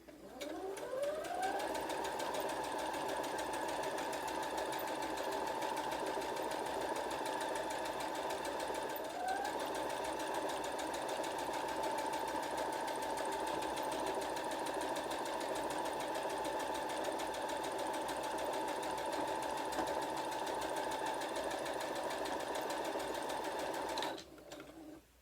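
A sewing machine stitching the side seams of a handwoven Saori vest, a steady close high-pitched motor whir that briefly dips and restarts for a back stitch, then runs continuously before stopping.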